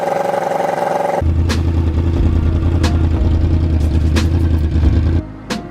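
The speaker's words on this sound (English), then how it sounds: "turn on your bike, let it get hot again" A 2009–2014 Yamaha R1 sport motorcycle starts up and idles loudly and steadily up close, with light mechanical clatter and a few sharp ticks, then cuts off near the end.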